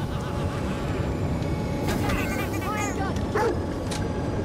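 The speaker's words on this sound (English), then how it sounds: "Press C to call your Cyber Mastiff." Cyber Mastiff, a cybernetic combat dog in the video game Necromunda: Hired Gun, gives a few short barks and yips over a steady bed of game noise.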